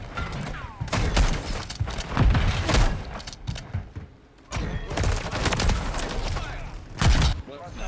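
Rapid bursts of gunfire fill a first-person shooter match as players shoot down UAVs, dense and loud in clustered volleys with brief lulls, while voices talk over the shooting.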